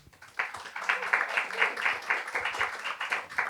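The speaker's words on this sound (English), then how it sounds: "please applaud very loudly" Brief applause from an audience at a mayoral candidates' quiz event, a burst of scattered clapping starting after a short pause and continuing fairly steadily, moderately loud.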